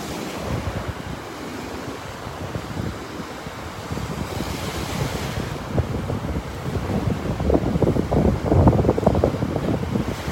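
Wind gusts buffet the microphone on a North Naples, Florida beach on a cold winter morning while ocean surf washes in steadily, growing louder toward the end, with no voices.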